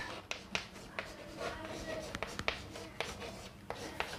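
A pen writing an English sentence by hand on paper, heard as close, quiet scratchy strokes with sharp ticks and taps as the pen touches down and lifts, with no talking.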